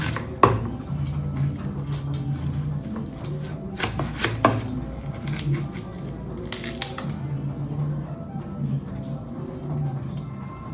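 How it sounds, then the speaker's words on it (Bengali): A hard, stone-like elephant apple (chalta) is hacked with a boti blade, making a steady series of close, sharp chopping knocks and scraping thuds, with heavier blows standing out now and then. "চালটা কাটছিলাম"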